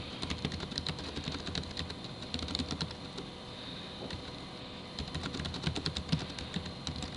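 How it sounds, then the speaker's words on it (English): Keys clatter on a computer keyboard as text is entered in the vi editor, a steady run of quiet, close clicks with brief pauses that lasts the whole stretch. "I'm going to hit insert, and I'm going to type in something."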